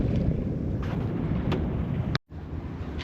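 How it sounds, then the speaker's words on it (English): A sailboat moves west past Great Cranberry Island, with a constant broadband rush of wind and water and microphone buffeting, interrupted by one brief drop-out near the end. "as we sail west past Great Cranberry Island"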